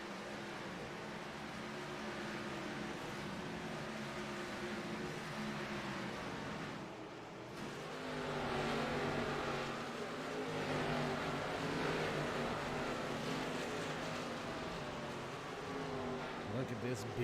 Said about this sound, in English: Look at this big gang of cars all locked up running right here.